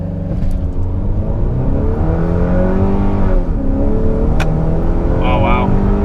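A tuned Honda Accord 2.0T launches hard in second gear with traction control off, the engine droning loudly and climbing in pitch through the pull, with a brief voice near the end.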